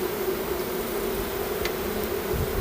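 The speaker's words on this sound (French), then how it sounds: "Il y a encore des abeilles de la ruche d'avant là qui veulent essayer de venir me chatouiller" Steady, faint honeybee buzzing drones around a hive throughout, a continuous hum with no voices, bees flying close by.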